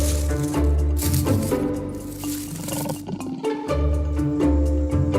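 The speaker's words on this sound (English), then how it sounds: "Their deep roars can be heard throughout the rainforest, as males and females alike engage in a ritual of call and response." A jaguar roars deep and loud in the rainforest, a series of rough, rasping calls with short breaks between them, heard up close with no talking.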